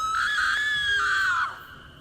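A woman's loud, sustained scream as a horror-story sound effect, a single shrill cry holding steady for over a second before trailing off.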